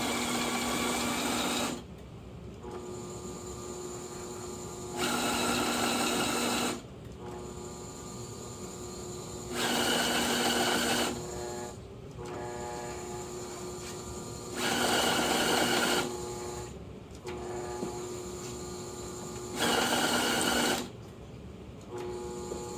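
A CueFeed conveyor feeder attachment runs with a steady mechanical hum, broken by five evenly spaced bursts of louder whirring every few seconds, with no voices.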